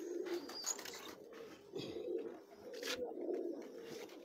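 Domestic pigeons at a Punjabi breeder's loft coo in a low, steady murmur throughout, with several birds overlapping in soft rolling calls and a few brief chirps, close and continuous.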